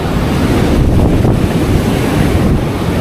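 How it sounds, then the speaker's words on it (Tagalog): Heavy ocean surf roars continuously, with large storm waves crashing and washing in near fishing boats under strong wind buffeting the microphone. "Ngayon yan, alon no? Nagdodoble."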